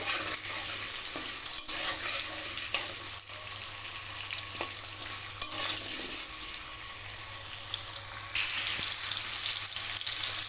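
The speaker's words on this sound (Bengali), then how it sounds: "প্রথমে দিয়ে দেবো কেটে রাখা আলু আলুগুলো কিছু সময় ভেজে নেব" Cut potatoes fry in hot white oil in a wok, giving a loud, continuous sizzle close by, broken by occasional stirring clatters and a brief watery splash near the end, with no talking.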